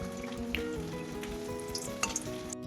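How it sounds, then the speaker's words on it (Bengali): Malpua batter fries in hot oil in a pan, giving a continuous soft crackling sizzle with small pops and occasional stirring, fairly quiet and close, with no voices. "এই তেলটা ওপরে ওপরে একটু একটু করে দিয়ে এটাকে ভাজতে থাকি"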